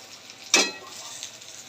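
Bitter gourd shallow-frying in oil for lunch gives a brief, sharp sizzle burst, as if from a stir or a dropped piece, then fades to a faint background hiss.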